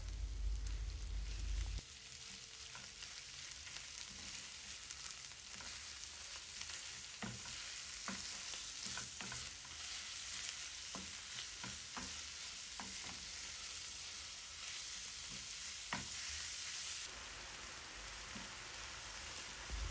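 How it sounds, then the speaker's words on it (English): Minced beef fries in a pan with a constant soft sizzle, steady and close, while a utensil stirs it with scattered light scrapes and taps. "So you're going to let it cook until the beef is brown."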